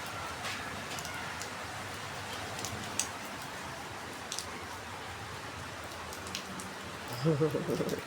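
Heavy rain falling outdoors, a steady, fairly faint hiss with occasional louder drops and some rustling, while a person speaks briefly near the end.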